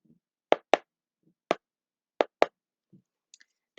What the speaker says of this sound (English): there's a special knocking pattern, and you would knock like this